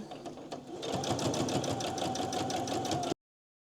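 A sewing machine runs a short burst of stitching through a fabric storybook page, a steady rapid mechanical hum and needle patter, close and alone for about two seconds before stopping.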